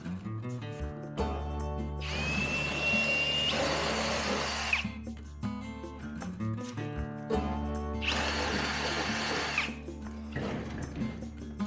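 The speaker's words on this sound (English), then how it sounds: "So I'm going to drill another hole about right here." A power drill whines in two long bursts, biting into a wooden board with a grinding roar, separated by a pause with quieter handling sounds.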